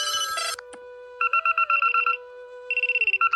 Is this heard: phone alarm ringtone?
yes